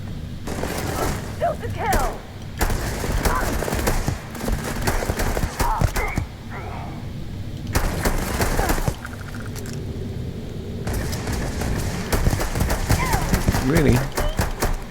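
Rapid bursts of Rattler gunfire in the Starfield video game come in several long volleys with short pauses between them, while a voice talks over the shooting.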